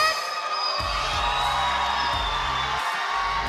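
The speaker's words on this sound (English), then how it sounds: "Grabe yung lakas ng cheer dito" A large arena crowd cheers and whoops loudly at an MPL Philippines Mobile Legends esports match after a team's win, a sustained roar with yells, and low music-like thumps pulsing beneath it.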